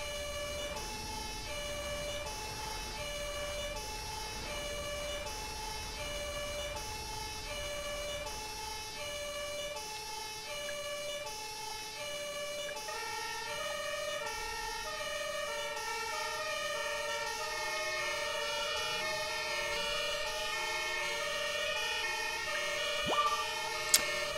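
A THW emergency vehicle drives with its two-tone siren wailing continuously, a steady alternating pattern that holds for the whole stretch over low engine and road rumble.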